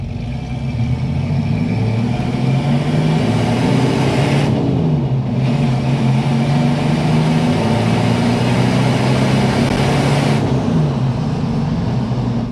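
A 1987 Chevrolet S-10 4x4 pickup with a 5-speed manual hums loudly and steadily as it rolls along, with pitch dipping and rising as it speeds up and shifts.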